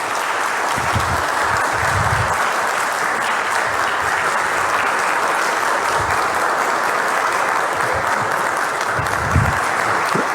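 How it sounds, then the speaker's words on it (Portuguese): Sustained applause from an audience honouring tax auditors of the Espírito Santo state revenue service at an evening ceremony, steady dense clapping throughout with a few low thumps. "Uma salva de palmas para vocês."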